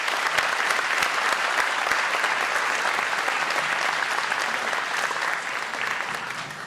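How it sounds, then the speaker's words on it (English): A banquet audience at a school athletic awards night breaks into a sustained round of applause, dense steady clapping from many hands that fills the room and fades slightly toward the end. "Let's give them all a big round of applause, please."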